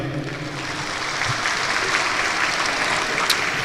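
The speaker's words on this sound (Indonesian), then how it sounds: "Oke, berikan aplaus dulu ya." An audience at an Islamic lecture gives sustained applause, a dense and even wash of clapping that holds steady throughout with no speech over it.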